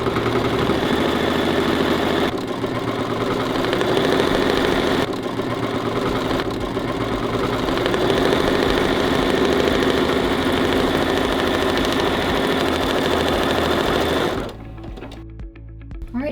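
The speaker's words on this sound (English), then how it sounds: "we'll put this back on the machine and sew stitch sequence 6 to tack down that back piece and also to create a cutting line on the vinyl" An embroidery machine runs an in-the-hoop stitch sequence, tacking down a back piece and stitching a cutting line on vinyl; a loud, steady rapid whirring hum continues for about fourteen seconds, then stops abruptly.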